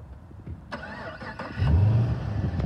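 A black HSV VF Clubsport R8 automatic starts by remote start, with a few clicks and the starter cranking briefly before the engine catches into a loud, deep burbling idle through its exhaust, heard up close.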